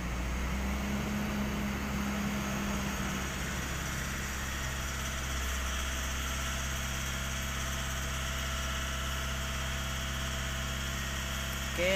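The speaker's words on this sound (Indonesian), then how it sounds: "Oke, suara mesinnya sudah normal, teman-teman." A Mitsubishi Pajero All New engine idles steadily after an injector repair, a continuous low rumble with mid-range hum holding even and fairly loud throughout, with no voices over it.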